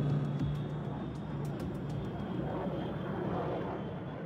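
An airliner descends from cruising altitude toward Sydney Airport, its distant engine roar a steady broadband rumble that holds constant throughout with no voices over it.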